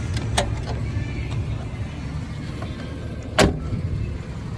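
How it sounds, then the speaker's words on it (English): A 1991 Jeep Cherokee Sport's door thuds shut once, a solid close slam rising above a low idling engine hum, with a faint click just before. "Door even sounds like a Jeep."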